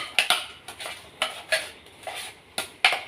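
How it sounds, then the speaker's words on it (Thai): A utensil stirs raw Thai larb mixed with blood in a bowl, giving about ten sharp, close clinks and scrapes at an uneven rhythm, with a wet mixing sound between them and no talking. "เดี๋ยวเราก็มาคนอีกหน่อยนึง ใส่ให้มันเข้ากันนะคะ"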